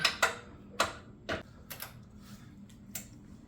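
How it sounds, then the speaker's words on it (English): A torque wrench set to 150 foot-pounds clicks while tightening the stabilizer bolts on a Jeep: a close series of sharp mechanical clicks, loudest at the start, then lighter ticks spaced irregularly. "torque wrench set to 150 pounds, 150 foot-pounds, I should say"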